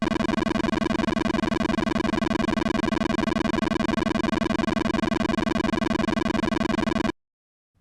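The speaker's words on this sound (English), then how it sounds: "When you beat a stage, the remaining time gives you extra points, which for the ZX Spectrum version sounds like this." A stage-clear time bonus tally plays in the ZX Spectrum version of Bomberman: a harsh buzzy beeper tone rattles rapidly and continuously for about seven seconds, then cuts off abruptly into silence.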